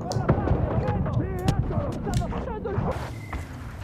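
Cannon fire and heavy gunfire from the video game Far Cry 5 go off in sharp, repeated booms across a few seconds, with a voice talking over the combat.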